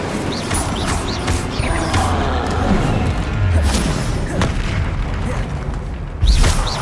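Incendio fire spells striking in the magic game Hogwarts Legacy, a run of booming, crashing impacts with bursts and pops over steady rumbling game noise, ending in a loud thump.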